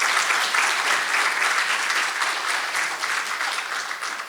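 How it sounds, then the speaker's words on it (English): Sustained applause from a sizable crowd at a political candidates forum, steady and fairly loud, slowly tapering toward the end. "Let's give AT&T a round of applause."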